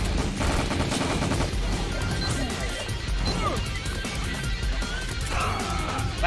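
Nerf blaster firing in rapid bursts, a sharp clattering series of quick snaps and thwacks with some mechanical rattling, loud and close, with faint voices in the background.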